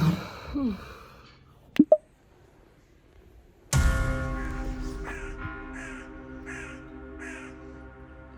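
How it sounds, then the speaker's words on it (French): Crows caw in misty countryside, a few harsh calls at first, then a run of repeated caws close by over a low steady background hum. "Non mais vous entendez les corbeaux là?"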